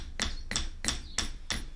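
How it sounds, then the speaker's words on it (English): A hammer taps coiled wire at an angle during a vape coil build, five evenly spaced sharp metallic strikes, close and fairly quiet. "doing it at an angle like that as I hammer it"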